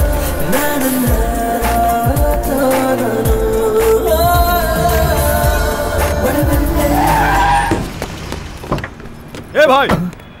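A car skids hard to a stop in front of a pedestrian, its tyres squealing loudly for several seconds before cutting off, while voices and other sounds carry on around it.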